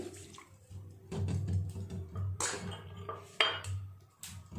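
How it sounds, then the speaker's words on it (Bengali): Small pieces of gondhoraj lemon dropped into water at home while making fuchka, giving a few close, quiet plops and splashes with faint clinks of a bowl, spaced irregularly. "দু এক টুকরো গন্ধরাজ লেবু জলের মধ্যে আমরা দিয়েও দেব"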